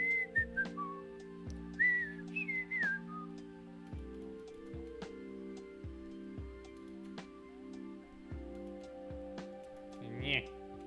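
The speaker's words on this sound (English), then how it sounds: "Probably shouldn't whistle into the mic." A person whistles close into a microphone, with short, shrill tonal phrases that rise and fall, over a steady hum with light ticking and tapping.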